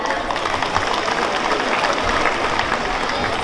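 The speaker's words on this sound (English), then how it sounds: "Parents, please clap." Parents in a hall applaud at a high school Republic Day event, a dense, continuous patter of many hands clapping at close range for a few seconds, with some voices mixed in.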